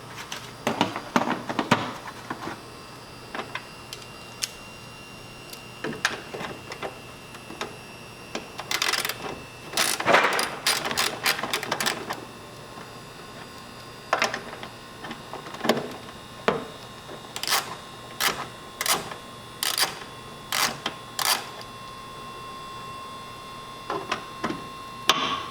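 Socket ratchet working on the 8 mm bolts of a 10th-generation Honda Civic Si brake light, bursts of rapid clicking separated by pauses, close and fairly loud with no talking.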